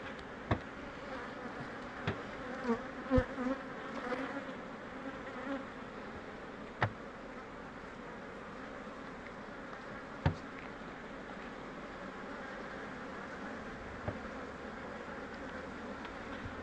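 A dense, steady hum of many honeybees buzzing together in an open hive during hive splitting, close and continuous, with a few faint knocks and taps scattered through.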